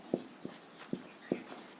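A pen writes out a geometry step by hand during a class 10 maths lesson, giving four quiet, short, evenly spaced taps and strokes with no talking over them.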